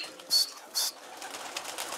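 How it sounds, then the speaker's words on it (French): Pigeons on a rooftop terrace above Old Delhi, kept by a pigeon fancier, with two short, bright, shrill bursts close by, followed by faint fluttering and rustling. "Voilà mes pigeons."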